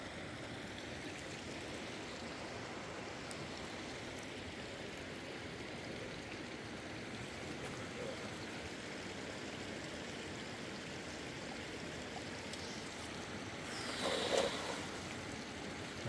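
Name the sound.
flowing mountain stream water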